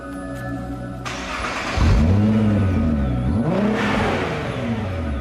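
A Nissan GT-R engine fires up for the first time on a dyno, cranking then catching into a loud, rising rev with swooping pitch sweeps that settle into a steady idle, alone and close.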